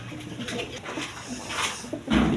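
Breeding pigeons coo in short soft repeated calls at close range, with a slightly louder burst near the end.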